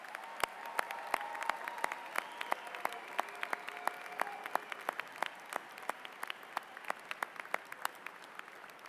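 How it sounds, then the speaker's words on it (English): Audience applause for new doctors at a graduate commencement ceremony, a steady patter of many hands with sharp individual claps standing out, fairly distant and even throughout. "how about one more round of applause for the newest doctors in the house?"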